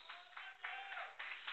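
A church congregation at an Easter evening service applauds in faint, continuous clapping with a few swelling bursts, distant and alone.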